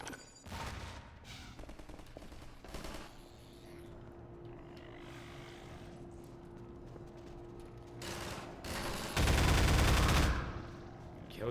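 M4 rifle gunfire in Half-Life 2, with broadband bursts of shots at the start and a louder sustained volley near the end, separated by a stretch of lower game noise and a steady hum.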